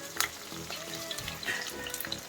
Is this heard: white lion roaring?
no